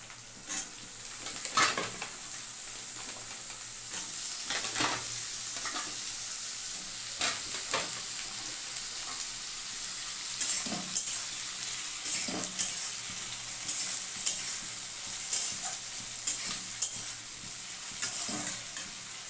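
Potatoes fry in a pan for a Bengali fish-head muri ghonto, with a continuous bright sizzle and repeated spatula stirs and scrapes that grow more frequent toward the end.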